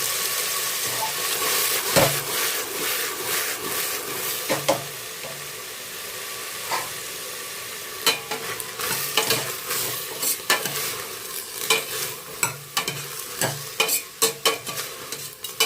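Cut potatoes fry in a pan for a Kannada-style sambar, giving a steady close sizzle throughout with repeated sharp scraping and stirring clatters of a utensil against the pan.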